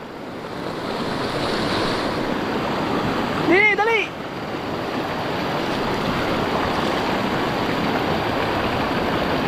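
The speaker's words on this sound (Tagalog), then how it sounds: "Nataas na ang tubig, oh." Constant loud rush of fast-moving flood water in a river fills the clip, with a brief shouted voice partway through.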